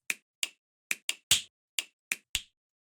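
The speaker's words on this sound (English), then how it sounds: "And we're going to get a couple of finger snaps as well." Eight crisp finger-snap samples played in a drum-rack sequence for a track in Ableton, dry and isolated, spaced irregularly over three seconds with one louder, fuller hit in the middle.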